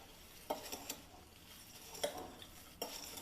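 A spoon mixes bhel puri with chopped onion in a bowl, giving a few sharp, distinct clinks of metal against the dish, spaced irregularly over soft rustling in a quiet kitchen.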